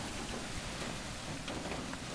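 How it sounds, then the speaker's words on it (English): Heavy rain with hail pounds down outdoors in bad weather, a dense, steady roar of drops and ice striking surfaces with no pauses across the short stretch, loud and close with no voices. "It's actually hailing as well"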